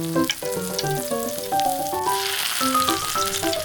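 A miniature beef steak fries in a tiny pan, giving a close, steady sizzle with small crackles throughout, while soft melodic music plays underneath.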